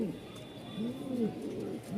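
Low, rounded cooing from Jacobin and Lahori pigeons, a few soft repeated calls close by over a quiet background.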